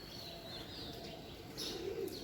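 Pigeons cooing softly at dawn in an outdoor garden, with a faint low coo and a brief flutter, quiet and somewhat distant against light background hiss.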